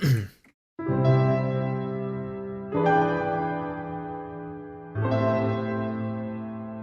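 Three sustained chords from the Pianoforte sampled piano by Audio Brewers, with reverb and a 3-band EQ, each struck and left to ring with a reverberant, filtered tone, following a brief breathy sound.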